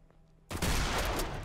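Gunfire in Garry's Mod erupts suddenly after a quiet moment, a dense, loud burst of rapid shots that continues without letup.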